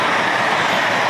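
An LNER Azuma train at Edinburgh Waverley station produces a loud, steady broadband rumble and roar, close and continuous, with no talking.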